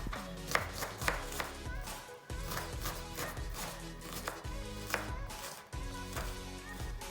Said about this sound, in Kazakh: Оны осылай майда көбек қылып турап аламын.